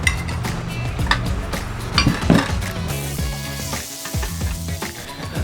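Butter sizzles in a frying pan, a close crackling fry under clinks and knocks of a utensil against the pan, with a busier burst of spatters near the middle.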